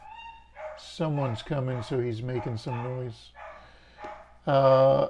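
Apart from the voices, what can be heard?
dog barking in the background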